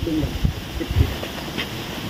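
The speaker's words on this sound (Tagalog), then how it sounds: "kusog na kayong hangin" Steady wind roars and buffets the microphone, with a few low thumps in the gusts and no one speaking.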